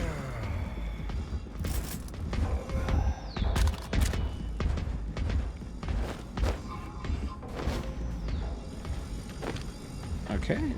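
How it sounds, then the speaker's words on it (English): Video game gunfire erupts in repeated loud bursts and thuds, with scattered shots and impacts throughout, mixed under excited voices talking. "Who's shooting me?"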